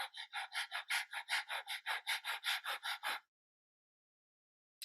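A person imitates a tired dog's panting with about fifteen quick, even, breathy huffs in a steady rhythm, close and fairly loud. The panting stops abruptly, leaving a short silence before a brief breath at the very end.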